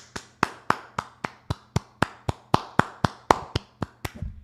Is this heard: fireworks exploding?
no